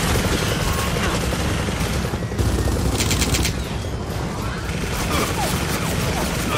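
Dense, continuous gunfire from the video game Gears of War 4, loud bursts layered with crashes and explosions throughout, with a voice shouting underneath.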